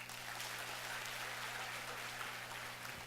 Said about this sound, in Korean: 이분들을 위해서도 박수 한번 쳐주세요.